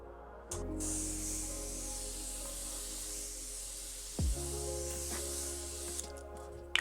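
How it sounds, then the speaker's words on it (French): Steady hissing spray sound running for several seconds, with a brief clunk partway through and a short click at the end, close and fairly loud. "Je sais pas si je mets le spray"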